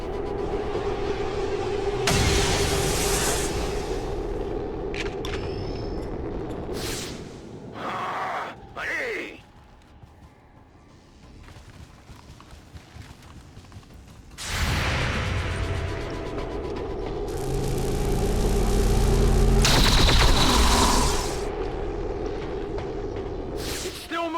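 Reaction fire and gunfire in XCOM 2: War of the Chosen, with heavy bursts and booming impacts returning in loud clusters over ambient game sound while a narrator talks between them.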